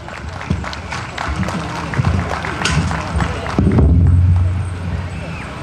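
Audience clapping for a Hmong community honoree at a Hmong American Day 50th anniversary event, a dense, sustained patter of many hands that swells louder near the end, with a low rumble and crowd noise mixed in.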